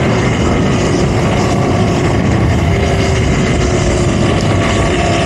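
A KTM 890 Adventure S motorcycle being ridden, a loud continuous roar of engine and wind rush with a steady droning note, close and unbroken, with no speech.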